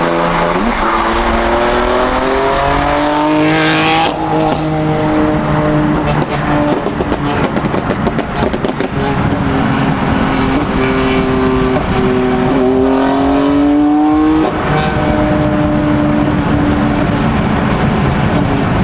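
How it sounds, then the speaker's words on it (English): A loud, Stage 2 tuned BMW M4 exhaust roars past, its pitch climbing and dropping through several gear shifts, with no one talking. "His exhaust sounds really good, so I'm gonna get some clips of him going by"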